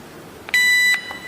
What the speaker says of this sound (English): Do not release the enroll button until one beep is heard.